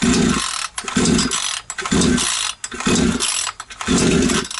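A Chinese petrol chainsaw running without its carburetor, with petrol sprayed in and the ignition on, starts up in loud, close sputtering bursts that repeatedly catch and cut out in an uneven rhythm.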